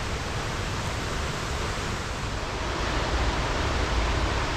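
A waterfall near a bush trail at Oxford Falls, New South Wales, roars as a dense, steady broadband rush, loud and unbroken, with no voices.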